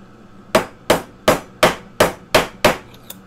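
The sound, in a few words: hammering ring ends together on a bench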